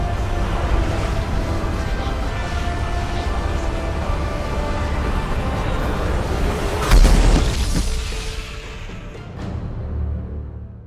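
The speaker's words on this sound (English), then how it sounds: "This looks more like a complete explosion" A large blast booms in the Mass Effect 2 Legendary Edition video game, a sudden loud burst about two-thirds through that rolls into a fading rumble over a sustained game soundtrack drone.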